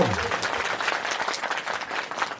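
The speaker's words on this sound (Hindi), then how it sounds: "आप ताली बजा लीजिए अपने लिए, जोर से ताली बजा लो।" Audience at a Shrimad Bhagavat Katha gathering in Sundernagar breaking into loud, sustained applause, dense hand claps filling the whole stretch with a faint voice at the very start.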